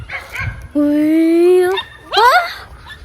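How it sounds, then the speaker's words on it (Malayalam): A neighbour's puppy nearby lets out a drawn-out whining howl followed by a short yelping bark, close and loud. "നമ്മുടെ അടുത്ത വീട്ടിലെ വളർത്തുന്ന പട്ടിക്കുട്ടിയാണ് കേട്ടോ"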